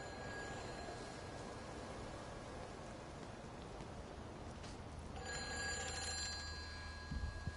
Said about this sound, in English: Okay, there has to be a phone around here somewhere.